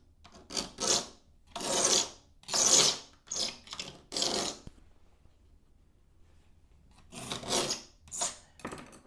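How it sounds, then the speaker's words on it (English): Scraper dragged across a surface in several loud rasping strokes, close up, with a pause of near silence in the middle before a few more scrapes, and no speech. "I need to scrape this part here."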